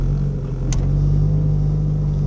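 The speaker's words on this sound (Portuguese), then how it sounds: "tô passando num monte de buraco que é bem esburacado" Inside a Chevrolet Vectra GT sedan on a heavily potholed road, a steady, loud low rumble fills the cabin with one faint tick and no distinct jolts or thumps, no talking.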